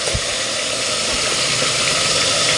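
Squash blossoms hitting a hot pan, a loud, steady broadband sizzle that holds evenly from start to finish with no talking.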